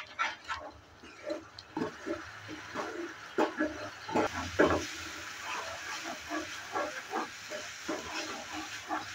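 Spice masala sizzling as it is sautéed and stirred in a pan for Bengali potato and egg curry, with a steady hiss and frequent sharp spatters and scraping clatters close by.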